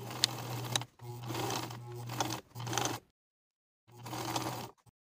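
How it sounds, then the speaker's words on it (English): A sewing machine stitches the top edges of trouser pocket welts in three quick bursts of steady motor whir, then a pause and one more short run, close and alone. "Sew from small dot to small dot for both top edges of the welts."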